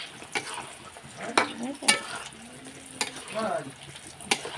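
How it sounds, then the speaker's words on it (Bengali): Chicken pieces being sautéed (kosha) in a pan give a soft continuous sizzle broken by sharp scraping stirs and clanks of the spatula, with a voice talking intermittently. "মাংসটা এখন কষিয়ে নিই"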